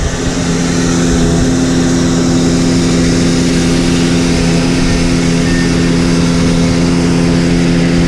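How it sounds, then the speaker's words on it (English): A pump at a North Dakota oilfield site transfers fresh water from leaking uprights to a new tank, running with a loud, steady engine-like drone and hum that holds constant throughout. "That's the pump. And you can kind of listen to it, you can hear the air."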